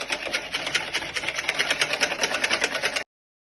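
Electric hand whisk beating cream for a Victoria sponge, a steady buzzing whir that holds for about three seconds, close and fairly loud, then stops abruptly into silence.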